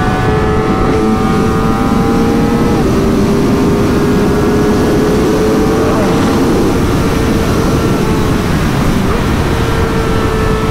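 Graves Motorsports Kawasaki ZX-4RR motorcycle with a quick shifter riding at speed: a loud, steady high-revving engine drone under wind noise, with a brief pitch drop at a shift partway through.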